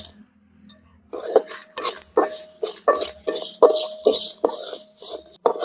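Lentils and dried chillies roasting in a pan for curry leaf chutney, with repeated clinks and scrapes of a ladle against the metal pan in an irregular rhythm. The sound is close and steady after a quiet start, with no talking.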